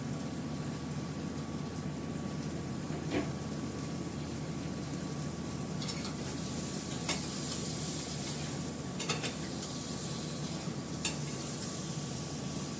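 Potatoes fry in a pan on an induction cooktop for a vegetarian Bengali dish, with a soft, continuous sizzle, a low hum, and occasional brief clicks of stirring.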